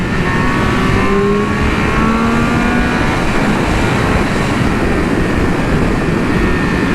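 A Triumph Speed Triple 1200 RR motorcycle accelerates hard in sport mode, its loud, close engine roar climbing steadily in pitch through the gears without a break.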